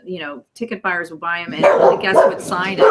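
A dog barks in short, sharp bursts indoors near an open door, sounding just behind a person talking.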